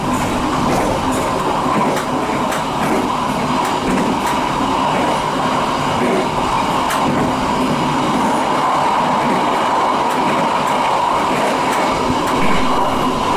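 KA Cikuray passenger train heard from the rear car while running fast between Cikampek and Bekasi, a loud continuous rumble of wheels on rail with faint rhythmic clicks throughout.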